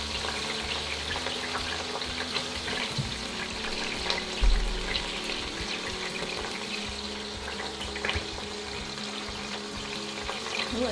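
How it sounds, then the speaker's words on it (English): Pork pieces sear in oil inside an Instant Pot, giving a steady close sizzle and crackle that runs throughout with a few louder pops and stirring bumps. "They've been seared a little bit on the edges"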